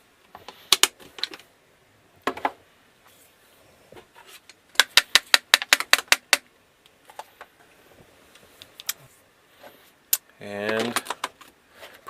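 A Ninja food processor blends hummus in an RV kitchen: scattered sharp clicks and knocks, then a short whirring motor burst near the end.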